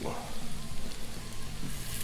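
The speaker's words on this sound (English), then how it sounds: "Got a nice sizzle happening already." Steady sizzle of spicy sausage frying on a hot Blackstone griddle, a dense crackling hiss throughout with no one talking.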